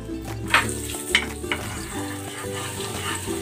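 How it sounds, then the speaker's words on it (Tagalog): Garlic sautéing in butter in a pan, a steady close sizzle with a few clinks and scrapes of a utensil stirring against the pan. "Igigisa ko na tong bawang."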